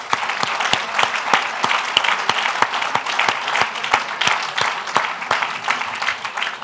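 An audience at a symposium applauds steadily, with dense sustained clapping and a few louder, sharper claps throughout.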